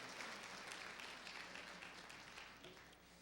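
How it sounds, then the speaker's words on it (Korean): A church congregation gives a faint, steady wash of applause after thanks for a testimony and a special musical performance, continuing evenly for about three seconds. "박수로 한번 해주십시다"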